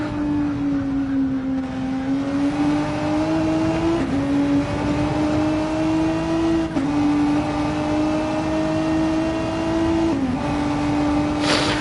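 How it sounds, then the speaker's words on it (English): Race car engine in Gran Turismo 7 at the Nürburgring GP circuit, held near its rev limit with steady high-pitched drone and brief dips at gear shifts, loud and continuous throughout. "you are revving this car pretty much to the limit"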